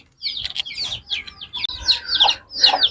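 Young poultry chicks peep in quick, high-pitched chirps that repeat throughout, close and fairly loud, with a few lower hen-like clucks mixed in.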